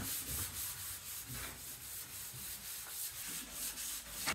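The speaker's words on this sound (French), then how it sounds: "Bon, là, je vais pouvoir la poncer." Hand sanding of paint on a Renault R2087 Goélette 4x4 body, soft, close, rhythmic rubbing strokes repeating steadily and quietly, no voices.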